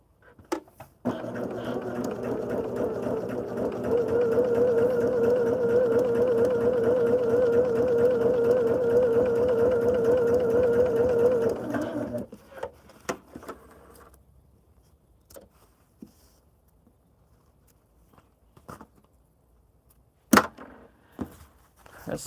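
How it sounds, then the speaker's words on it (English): A sewing machine stitches fabric pieces in a steady, continuous whir for about eleven seconds, then stops, leaving faint clicks and handling noises in a quiet room. "I am going to just stitch down the two end pieces"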